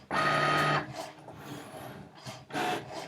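A Cricut machine cuts card stock for a flip card, giving a loud rasping, scraping burst at the start, then quieter mechanical movement and a second rasping pass near the end, with no talking.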